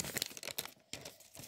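A plastic shopping bag crinkles and rustles close up in a few quick, irregular bursts, fairly quiet, with no speech over it.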